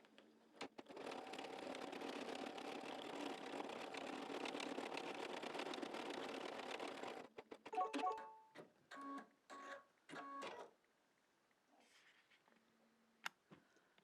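Embroidery machine stitching with silver metallic thread, a steady fast mechanical whirr running continuously for about seven seconds, then stopping and starting in several short bursts before falling quiet.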